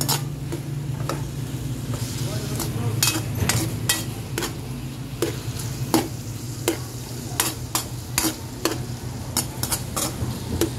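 Tomatoes sautéing in a wobbly frying pan, a steady sizzle running throughout with sharp metallic clicks and scrapes of stirring recurring irregularly, close and fairly loud with no talking.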